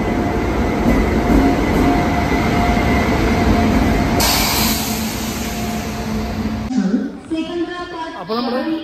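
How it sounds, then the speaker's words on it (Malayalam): The Madurai Express rolls from Angamaly to Kottayam in Kerala with a loud, continuous carriage rumble and rattling wheels, shifting in tone toward the end as voices come through. "അങ്കമാലിയിൽ നിന്ന് മധുര എക്സ്പ്രസ്സിൽ കോട്ടയത്ത് പോയിട്ട്"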